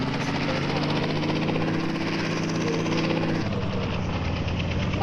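A police helicopter in the Indian Bike Racing 3D game gives off a loud, continuous rotor thrum and engine drone, holding steady and near throughout with no speech.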